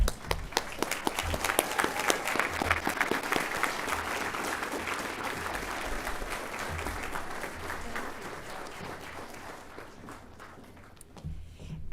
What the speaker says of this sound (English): Thomas Mast, Alexis Mendez, Mikala Williams, Give a round of applause